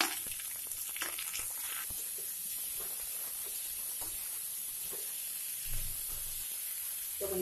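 Onions fry with ginger and garlic in a pan for paneer butter masala, giving a steady, even hiss and sizzle that runs throughout at low volume, with a few faint stirring bumps and no speech.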